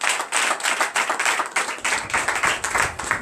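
A worship congregation claps in acclamation of Jesus at a night deliverance service, steady loud rhythmic clapping in quick repeated bursts from many hands throughout, with no voices standing out.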